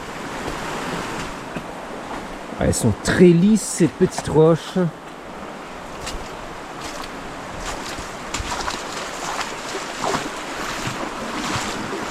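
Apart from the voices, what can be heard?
flowing river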